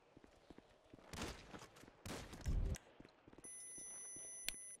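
Gunfire in a roleplay video game: several sharp, loud bursts of shots ring out in quick clusters, with quieter footsteps and background game noise between them.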